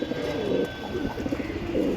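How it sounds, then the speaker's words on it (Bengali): A pair of Damascene fancy pigeons coo softly and repeatedly at close range. The throaty, rolling calls come in low bursts over faint background hiss. "প্রিয় দর্শক ভাই এখানে দেখতেছেন এক জোড়া দামাসিন কবুতর।"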